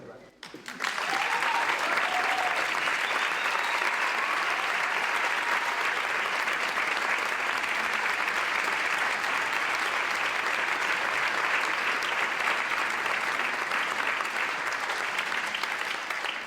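Audience applause at a music school folk festival: a crowd claps in a steady, sustained wash that continues throughout, heard from within the hall.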